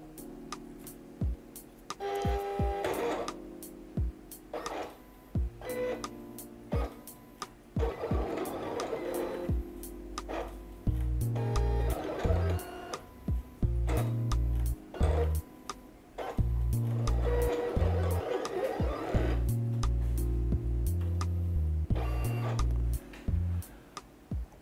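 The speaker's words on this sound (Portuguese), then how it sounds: "E agora nós vamos mandar a máquina realizar o corte do feltro." Silhouette Cameo 4 cutting machine cutting felt with a rotary blade, giving off mechanical whirs, ticks and motor pulses in uneven bursts as the carriage moves back and forth.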